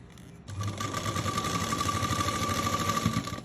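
A sewing machine stitching a T-shirt seam starts up after a brief pause and runs in a steady, close whirring hum with a fast mechanical chatter until the end.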